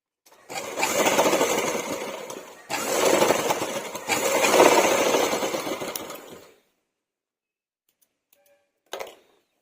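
A sewing machine stitching a pant zip runs in two close, loud bursts of rapid whirring stitches, each lasting a couple of seconds, then stops; a brief click follows after a quiet pause.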